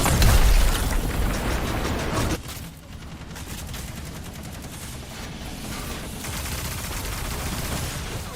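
Gunfire in the video game Destiny 2: Lightfall: a loud burst of rapid shots and mechanical clatter at the start, then a drop in level to lighter, sustained firing and mechanical ratcheting noises, with no voices.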